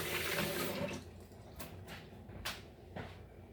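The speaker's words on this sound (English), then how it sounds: "I'm washing my hands" Water runs from a kitchen tap as hands are rinsed, a soft steady splash at first that eases into quieter trickles and a few brief drips and knocks.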